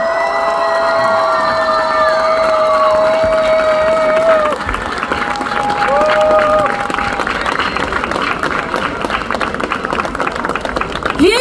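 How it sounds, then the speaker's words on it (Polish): A crowd at an honorary citizenship award ceremony in Włocławek, Poland claps and cheers loudly and steadily, with whistles and shouts over the dense applause. The roar eases slightly partway through but carries on to the end. "Większe brawa, poproszę"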